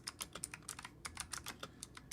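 Keys clatter on a computer keyboard in rapid, uneven bursts of light clicks, close but very quiet, with no talking.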